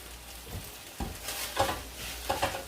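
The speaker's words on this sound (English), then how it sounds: "I'm going to go ahead and put our peanuts in here." Peanuts dropped into a hot pan of Thai chicken stir-fry with basil, giving a few soft clattering impacts and stirring scrapes over a low sizzle, close and fairly quiet with no talking.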